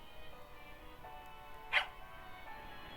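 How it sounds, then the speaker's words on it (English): A small dog yaps once, briefly and faintly, in the horror game Tiny Bunny, over a quiet, steady background hum. "The dog yapped in agreement"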